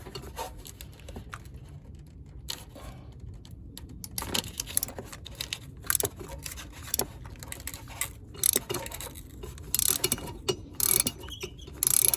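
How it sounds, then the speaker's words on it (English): A ratchet with a 6-inch extension on a spark plug socket works plugs on a Honda Odyssey engine, giving quick bursts of close clicking with brief pauses and no talk. "I'm using a 6-inch extension on the spark plug socket"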